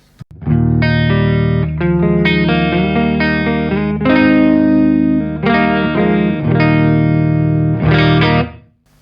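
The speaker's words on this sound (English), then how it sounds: "if I back the gain off, the amp will clean up" An electric guitar rings out through an amp with little gain, strummed chords and single notes sustaining cleanly, loud and close, fading out at the end.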